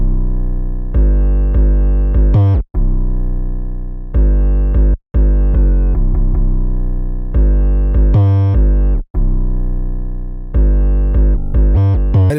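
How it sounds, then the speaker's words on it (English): A loud, deep 808 bass pattern from an FL Studio beat rumbles in long sustained notes that shift pitch, with brief gaps and a few quick slides, heard alone and heavy. "I just laid out this 808 pattern."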